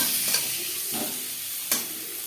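Steady sizzling of potatoes frying in a pan for mutton curry, with a few scraping stirs of a utensil cutting through the crackle.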